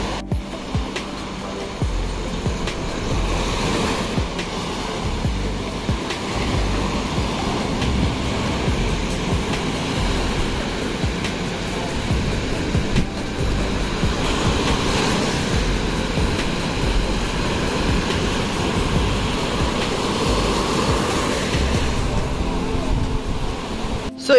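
Ocean surf at a beach in Varkala, Kerala, rolls in as a steady, rushing wash of breaking waves with gentle swells in loudness over a sustained background.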